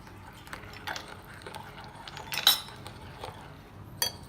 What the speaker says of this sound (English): So now let's give it a good stir.